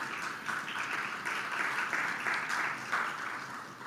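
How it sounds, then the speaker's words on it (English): A large audience applauding at a marketing event launch, steady continuous clapping filling the room at moderate loudness for a few seconds. "So can we have a big round of applause for launching Impact in Delhi?"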